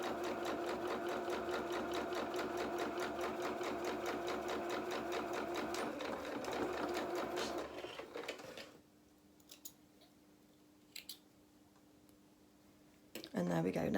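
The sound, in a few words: sewing machine stitching doll clothes seam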